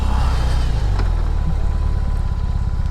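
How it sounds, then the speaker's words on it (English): A BMW R18 motorcycle engine drones steadily with a high mechanical whine over a low hum, the throttle held and revving slightly, with little exhaust rumble. "all you hear is the sing of the motor and hardly any exhaust"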